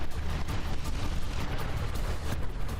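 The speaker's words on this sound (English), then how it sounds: "We'll like see big frag explosions in the distance." Continuous rumbling booms and crackling blasts of frag explosions in From the Depths, a naval combat video game, rolling together as a dense, loud barrage heard at a distance with no talk.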